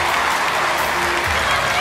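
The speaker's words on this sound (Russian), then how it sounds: "Димаш Кудайбергенов, аплодисменты!" Audience applause for Dimash Kudaibergen, a dense, steady wash of clapping from a large crowd, loud and continuous throughout with faint voices mixed in.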